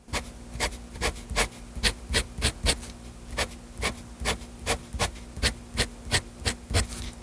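An inexpensive fountain pen's nib scratches across paper in a steady run of short, crisp strokes, near and fairly faint over a low hum, with no voices.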